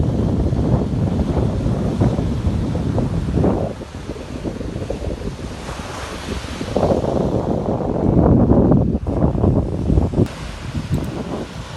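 Rough, choppy sea and strong wind buffet the microphone at a sailing school outing off a southern island coast, with steady roaring wind noise and crashing surf swelling and easing throughout, loud and close, with no voices.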